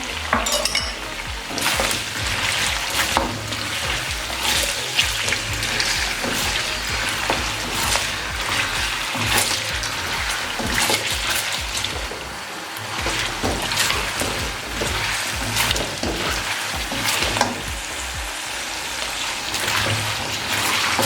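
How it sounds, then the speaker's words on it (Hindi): Ginger garlic paste frying in a pan for chicken korma, a loud dense sizzle with constant stirring and scraping of a spoon against the pan, close and without talk. "10 सेकंड के लिए इसको भी फ्राई कर लेंगे।"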